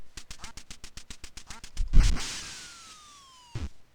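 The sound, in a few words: duck quacking in Duck Hunt NES video game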